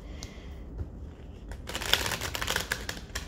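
A new FAERY Oracle of the Forests oracle card deck being shuffled by hand, quiet at first, then a quick riffle of crisp, rapid card flutters and slaps over the last second and a half, close and alone.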